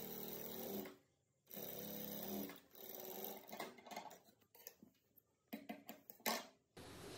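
A sewing machine stitching saree blouse fabric, main and lining layers, with a whirring run of stitches, a pause, another run, then shorter bursts and clicks, close and fairly quiet.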